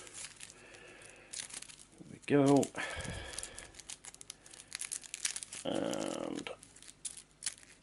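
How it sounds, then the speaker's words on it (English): Cards being shuffled for the dummy player in a solo Mage Knight board game, with bursts of riffling and crinkly card noise between short pauses and someone talking briefly. "All we've got left now is a little bit of shuffling."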